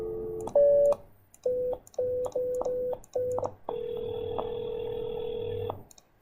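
Desk phone on a Cisco collaboration lab dial plan sending a quick series of dial tones for a local number, with short beeps and brief gaps, then a long steady call-progress tone holding for about two seconds.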